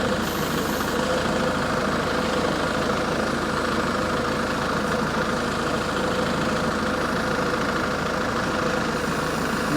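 Track loader engine running steadily near the microphone while lifting a large tree for planting on a homestead, a constant low diesel rumble with a knocking texture and no speech.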